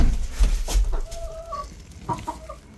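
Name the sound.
chickens clucking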